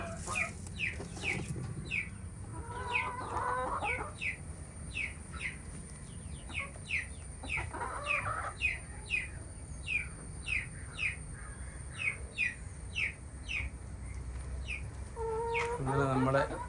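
Chicks and hens in a farm coop peep steadily in a rapid rhythmic series, broken by louder clucking bursts, with a voice briefly speaking near the end.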